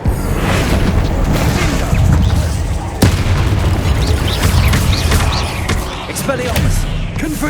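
Spell explosions from Hogwarts Legacy combat: a run of loud booms and bursts, with one sharp blast around the middle, over dense, continuous game noise.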